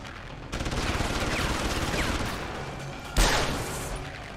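Rapid gunfire from the PC video game Deus Ex: Human Revolution fills the scene as a dense, loud, continuous burst of shots, with a sharper blast near the end.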